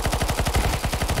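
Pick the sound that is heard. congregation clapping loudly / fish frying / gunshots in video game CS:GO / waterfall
gunshots in video game CS:GO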